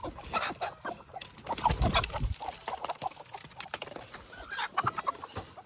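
Desi country chickens clucking on a farm in Shahapur, with repeated short clucks and scattered squawks from several birds nearby, moderately loud, no speech.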